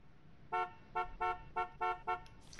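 A car horn in the Fortnite video game sounds six short, evenly spaced toots in a row, loud and clear over a quiet game background.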